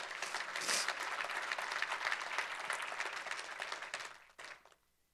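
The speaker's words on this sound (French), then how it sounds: "On peut donner vraiment une acclamation." A church congregation bursts into sustained applause, dense clapping that holds steady for several seconds before tapering off near the end.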